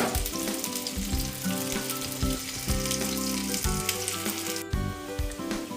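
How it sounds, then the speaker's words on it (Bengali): Potato pieces fry in hot oil until reddish-brown, being prepared for a raw jackfruit kalia. The sizzle is loud, dense and continuous, with bubbling crackle and occasional stirring scrapes throughout. "এই আলুগুলোকে খুব সুন্দর করে লাল লাল করে আমরা ভেজে নেব"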